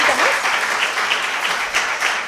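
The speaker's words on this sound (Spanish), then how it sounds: "Un aplauso." A studio audience on a cooking show breaks into loud, close applause, a thick burst of clapping with cheers rising and falling over about two seconds.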